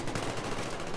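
Rapid automatic gunfire in the video game Battlefield 3, a fast continuous rattle of shots for about a second, moderately loud with no voices.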